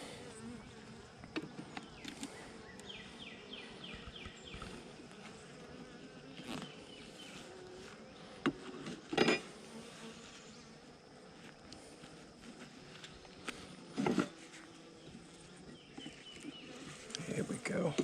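Honey bees swarm around an opened backyard hive during a one-week check, a dense continuous buzz filling the air, broken by occasional sharp knocks and clatter as frames are handled nearby.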